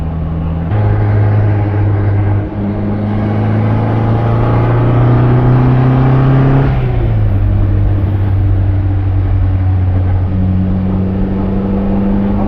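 A 1959 MGA Twin Cam sports car driven on open Australian roads, its engine droning loud and close from inside the cabin, pitch climbing steadily under acceleration, dropping with a gear change, then pulling again.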